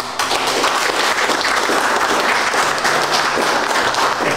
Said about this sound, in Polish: naprawdę należą wam się gorące brawa